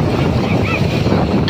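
Strong wind buffets the microphone outdoors in a steady, loud roar with low rumbling gusts that fill the whole moment, and no clear voice rises above it.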